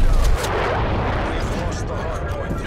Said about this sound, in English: Artillery targeting detected. Net call. Incoming artillery.